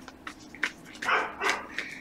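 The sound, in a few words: dogs barking in the background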